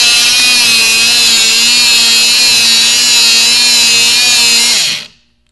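An electric Benner Nawman DBC 16H rebar bender bends #5 rebar, 5/8 inch in diameter, into a 135-degree hook. Its motor gives a loud, steady, high whine for about five seconds, then cuts off abruptly.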